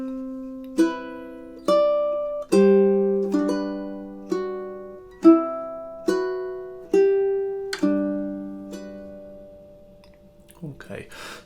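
Measures 5 to 8 of Satie's Gymnopédie No. 1 are played on a ukulele as plucked notes and double stops, about eight clear, evenly spaced attacks that ring and decay, fading out before a brief rustle at the end.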